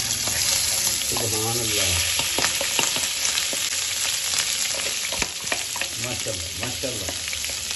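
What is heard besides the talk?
cauliflower frying in a pan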